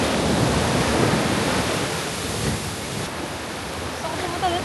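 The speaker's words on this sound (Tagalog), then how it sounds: "Sobrang lakas ng alon dito." Strong ocean waves at Nusa Penida, Bali crash and roar in a dense, steady wash of surf. The sound is loud and close, easing slightly partway through.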